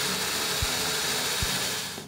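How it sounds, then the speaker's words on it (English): A power drill bores a starter hole in a stamped copper ceiling tile, with a steady, close whirring drone broken by two short low thumps. "bore a starter hole,"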